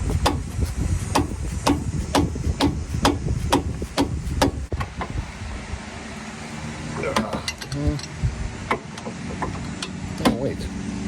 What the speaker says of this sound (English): If you don't have an impact, bring an actual hammer at your wrench.